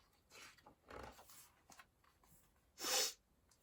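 A person imitates a sneeze with the voice, a short, sharp burst after a few quieter breathy vocal sounds, close and clear in a quiet room.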